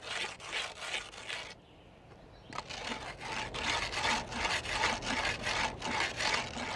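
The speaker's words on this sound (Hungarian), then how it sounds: "Most éppen arra használom ezt a habkövet, hogy a lehető legfinomabbra csiszoljam vele a cédrus felületét." A pumice stone rubs and sands a cedar wood surface in quick, regular rasping strokes, with a brief pause partway through before the scraping resumes at a close, steady pace.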